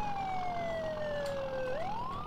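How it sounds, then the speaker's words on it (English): A police siren wails on a Ford F450 truck in Farming Simulator, a steady tone sliding slowly downward, then sweeping sharply back up near the end, fairly faint over a low engine rumble. "so I do have a toggleable siren for this, which is pretty sweet"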